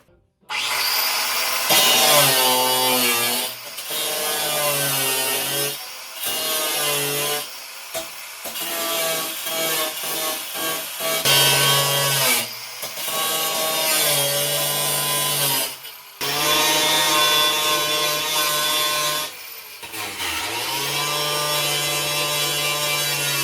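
A power tool cuts a hole through the sheet-metal car floor for a four-speed shifter swap in a junker V8 daily driver, grinding in long loud passes broken by short pauses.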